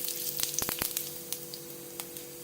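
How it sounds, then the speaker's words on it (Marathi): Cumin seeds tempering in a little hot oil for a brinjal curry, a soft close sizzle with a quick cluster of small pops early on. "आता जिऱ्याची फोडणी आता देते"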